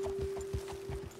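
Horse hooves walking in Red Dead Redemption 2, a soft, fairly faint clip-clop of several steady, evenly spaced footfalls over a constant background tone.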